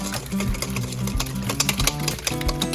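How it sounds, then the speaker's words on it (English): An electric mixer stirs wing sauce for air fryer wings, producing a close, rapid mechanical whirring with rhythmic clattering pulses over about three seconds. "then you just take your mixer, stir it up"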